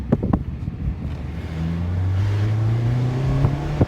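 A 2025 Mazda Miata engine climbs in pitch as the driver works through the gears, a few clunks and taps first, then a steady rising rev that drops and climbs again, close and fairly loud.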